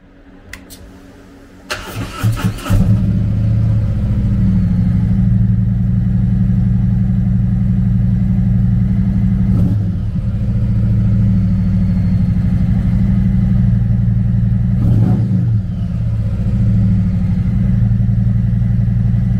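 A 2018 Harley-Davidson Electra Glide Ultra Limited with a 107 cubic inch V-twin cranks and fires up, then settles into a loud, steady, loping idle that runs close by for the rest of the clip.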